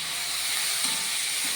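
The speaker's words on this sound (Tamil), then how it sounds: "இப்போ தக்காளி, இந்த மஞ்சள்தூள், கொஞ்சம் கல்லுப்பு போட்டேன், இது எல்லாத்தையும் சேர்த்து நல்லா வதக்கி விட்டுக்கலாம்." Tomato with turmeric and rock salt sautéing in a pan gives a steady, even sizzling hiss throughout, moderately loud and close, with no voices.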